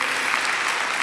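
Applause from a church audience rolls in a steady, loud wash of many hands clapping at once, with no breaks or talk over it.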